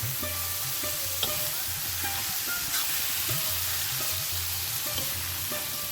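Chicken keema being stir-fried in a pan for dhaba-style keema matar, a steady sizzle under repeated scraping strokes of a spatula, close and moderately loud with no talking.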